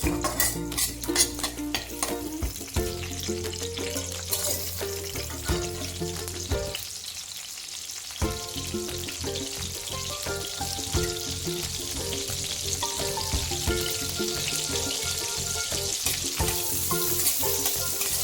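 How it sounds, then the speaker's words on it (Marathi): Green chillies fry in hot oil with a steady, loud sizzle that runs almost the whole time, with bursts of spattering and a short lull partway through; no one talks. "हिरवी मिरची चांगली तळून घ्यायची अगोदर"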